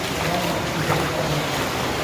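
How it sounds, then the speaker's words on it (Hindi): Floodwater churns and rushes steadily as a water pump drains a flooded mosque in Malwani, Mumbai after heavy rain, a continuous broadband wash with no voices. "ये वाटर पंप लगा हुआ है जिससे पानी बाहर निकल रहा है"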